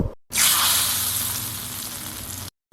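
Mustard seed tempering hits green gram curry with a sudden loud hiss that settles into a steady, close sizzle fading slightly over two seconds.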